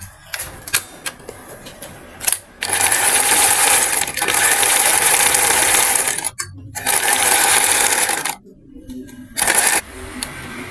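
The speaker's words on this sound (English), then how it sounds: "because this my machine does overlock, so I'm going to lock the edges of this facing" An overlock sewing machine locks the raw edges of a fabric facing with loud, fast mechanical stitching in several long bursts, separated by brief pauses and quiet clicks.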